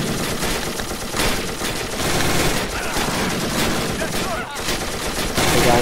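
Dense supporting gunfire in the Men of War Assault Squad 2 video game: overlapping rifle and machine-gun bursts keep up a constant loud din, with a voice faintly present beneath.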